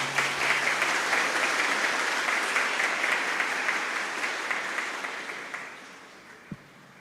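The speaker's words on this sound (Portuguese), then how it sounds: "Palmas para vocês." A congregation at a Sunday Mass of Senhor do Bonfim breaks into sustained applause, full and even at first, then thinning and fading toward the end, with a soft thump near the close.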